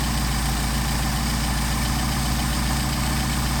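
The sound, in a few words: Mercedes 190SL engine idling during Solex carburetor adjustment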